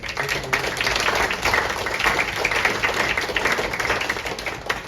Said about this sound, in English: I want to give a round of applause for just all of our police department